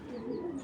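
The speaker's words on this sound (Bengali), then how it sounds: "এটা ব্রিডিং নর, এটা এআরপিসিডি ক্লাবের কবুতর 2019-এর।" A breeding male racing pigeon gives a short, low, throaty coo up close, a single soft rolling note lasting under a second.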